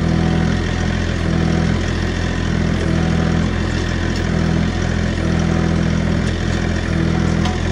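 A tractor engine drones loudly and steadily at idle, a constant low mechanical rumble with no talking.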